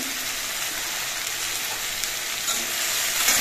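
Vegetables fry in a pan as salt goes in and they are stirred, giving a steady, moderate sizzle with faint scraping and no voices.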